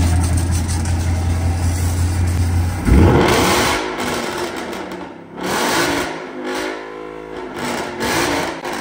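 A modified Ford Mustang exhaust blares loudly, holding a steady idle drone before sharp rev bursts that rise and fall in several throttle blips, close and dominant.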